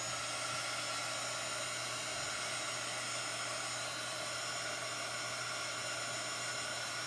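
Steady, loud hair dryer blowing on a chalk board, a continuous even whoosh with a faint high whine, running uninterrupted with no talk.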